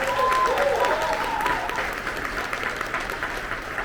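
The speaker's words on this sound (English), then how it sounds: "Let's give her another big round of applause." Applause from a luncheon audience at an awards event, a steady dense clatter of many hands that stays fairly loud throughout and thins slightly toward the end, with some voices mixed in.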